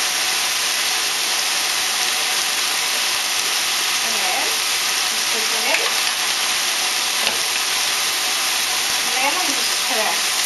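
Spaghetti sauce sizzles loudly and steadily in a hot pan, with a spoon scraping and stirring through it in several short sweeps.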